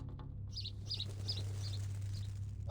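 A small bird in the game Reverse: 1999 gives a short series of bright, evenly spaced chirps, about six clustered tweets, over a steady low hum, with no talking.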